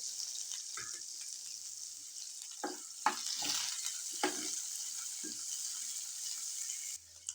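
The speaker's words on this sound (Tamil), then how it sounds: "வெங்காயம் வரமிளகாய் இதெல்லாம் தூக்கி போட்டு நல்லா வணக்கிடலாங்க" Onion and dried red chillies sautéing in hot oil after mustard seeds have popped, a constant bright sizzle with a few soft spoon stirs and scrapes, fairly quiet and close.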